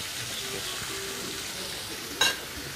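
Meat frying in a pan over a lowered flame gives a steady, quiet sizzle throughout, broken by one brief sharp crackle near the end.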